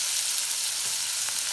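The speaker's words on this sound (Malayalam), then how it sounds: "അപ്പോൾ അതിൽ കടുക് പൊട്ടിച്ചു" Mustard seeds splutter and crackle in hot oil, a brief, steady sizzling hiss at close range with no voices.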